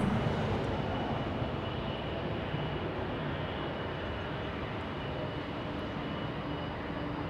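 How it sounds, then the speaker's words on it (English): A Lufthansa Airbus A340 airliner at Los Angeles International Airport gives a steady, broad jet roar that holds even for several seconds, fairly distant and moderate in level, with no voices. "Lufthansa A340."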